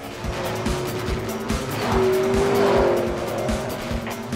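Racing cars roar around a circuit in a film, engines loud and sustained with a rising pass and a brief tyre squeal near the middle, no talk.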